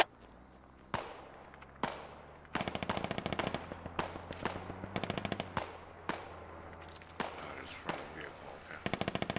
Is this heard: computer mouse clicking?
no